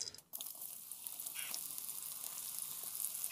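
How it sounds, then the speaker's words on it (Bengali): Chopped onion hitting hot mustard oil in a kadai, a steady close sizzle and crackle that starts abruptly and continues evenly throughout. "তেল গরম হয়ে গেছে, কুচানো পেঁয়াজটা দিয়ে দিলাম।"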